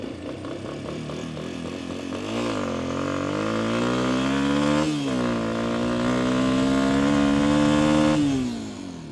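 Yamaha XT 250 motorcycles pull away together on a Moroccan rally stage, engines rising steadily in pitch through two gears in a loud, close, continuous roar, with a brief gear-change dip midway before easing off at the end.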